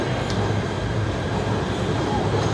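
A PATH train at Journal Square station gives a steady, close rumble with low droning hum throughout, and a brief brighter hiss near the start.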